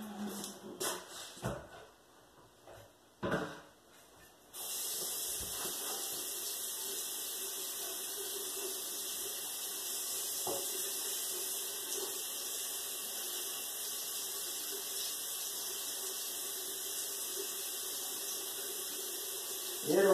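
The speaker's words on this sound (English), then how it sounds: "Hear the water running?" Water sprays steadily from a water gun in a continuous hiss that lasts many seconds after a few short bursts and clicks at the start.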